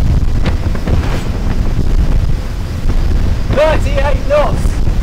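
Sunseeker Superhawk 55 motorboat runs flat out at 37 knots at sea, a loud steady roar of engines, hull and rushing wind buffeting the microphone, with a few short voice bursts over it.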